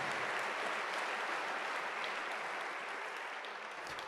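A church congregation claps together in a steady, moderately faint wash of applause lasting a few seconds.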